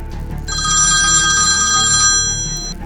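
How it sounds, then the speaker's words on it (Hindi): A phone rings with a bright electronic ringtone, loud and steady for a couple of seconds after a brief quiet start. "थोड़ी देर के बाद रमेश का फोन बजा।"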